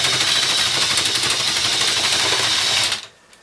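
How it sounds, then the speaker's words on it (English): A small electric motor in a large radio-controlled Lego port crane raising and lowering the long cabin arm, giving a close, steady high-pitched whir that runs for about three seconds and then stops abruptly. "I used the last motor to make that move up and down"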